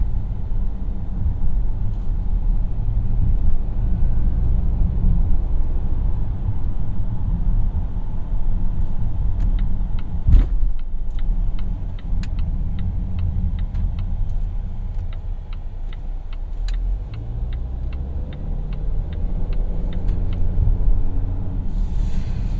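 A 2018 Volvo XC90 T6 AWD Inscription rolls along at slow speed in dynamic mode, giving a steady low engine and road rumble from inside the cabin with light ticking clicks over it.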